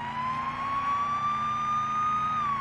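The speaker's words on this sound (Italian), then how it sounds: "si va di sirena" Police car siren in the Police Simulator video game, a continuous steady wail holding loud and close with no talk over it.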